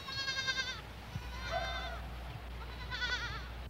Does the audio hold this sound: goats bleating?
yes